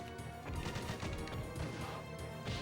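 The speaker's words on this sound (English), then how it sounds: "Is that a Bofors rifle?" Bofors rifle fire in a video game: dense, loud crackling gunfire and impacts blending into a continuous barrage with no gaps.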